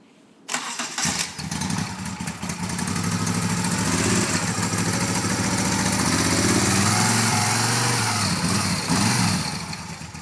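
An older Moto Guzzi motorcycle engine cranks with the choke pulled and catches, then settles into a steady, loud idle that runs close by for several seconds before easing slightly.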